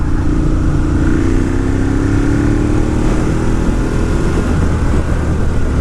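A 2018 Ducati Monster 1200S motorcycle being ridden in cold weather, with a loud, steady engine drone and a rising pitch as the throttle is rolled on, plus constant wind rush throughout.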